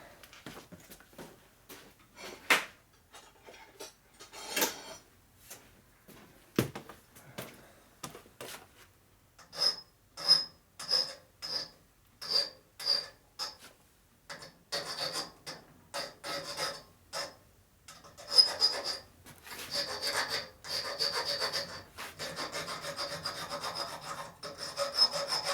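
Hand filing a 45-degree chamfer on a metal part of a 1941-72 WL motorcycle clutch cable top motor mount, heard as a series of close, rhythmic rasping strokes that start sparse and grow steadier and denser.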